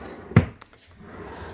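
A makeup vanity drawer slides open with one sharp wooden knock and a brief rumble, followed by quieter rustling close by in a still room.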